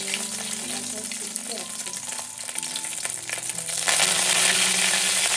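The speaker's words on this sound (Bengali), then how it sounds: "কারি পাতাকে যেহেতু ধুয়ে রেখেছি না, এটার মধ্যে অনেক জল আছে, তাই জন্যই এরকম ভাবে ছিটকে উঠছে।" Washed, wet curry leaves tossed into hot oil with chillies for a poha breakfast sizzle and splatter loudly and steadily, growing more intense toward the end.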